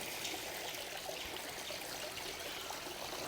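Water runs through a submersible filter pump in a fish tank, a steady close trickling flow with an even watery hiss and no pauses.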